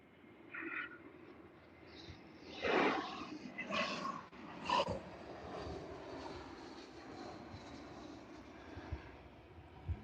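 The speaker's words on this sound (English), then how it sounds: "here's your Wiz from Budapest," A Wizz Air Airbus A321 from Budapest lands with a smoky touchdown at Liverpool Airport. A steady jet roar runs throughout, with louder surges near the start and in the middle, and no talk.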